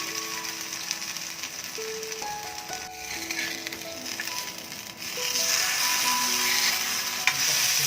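Raw banana fish masala pieces frying in oil in a pan give a steady close sizzle throughout that swells louder partway through, with occasional light scraping and clicks and no voices.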